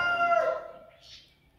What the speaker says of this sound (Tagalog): Ang aming manok ay tumitilik-tigaok na.